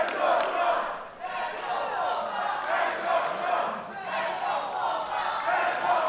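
A divided crowd at a heavyweight championship wrestling match chants in loud, rhythmic surges, the shouting rising and falling in regular pulses throughout.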